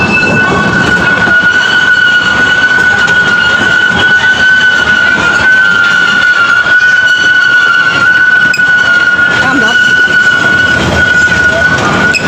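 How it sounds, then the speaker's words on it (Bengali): Amusement park train ride rolling through the Fantasy Kingdom area, a steady, loud rumble of wheels on track with a sustained high metallic squeal running throughout, people faintly talking in the background. "ট্রেন ছেড়ে দিয়েছে, আমরা এখন ট্রেনে চড়ে সম্পূর্ণ ফ্যান্টাসি কিংডমের এরিয়াটি ঘুরে ঘুরে দেখব।"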